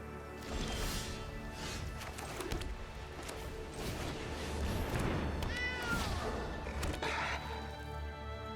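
Cats meowing in the Magic: The Gathering Arena card game, a few short meows and rising cries over soft background game effects and clatter.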